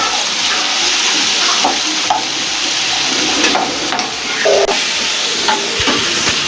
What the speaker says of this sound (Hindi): अब इसे चलाएं अच्छी तरह से।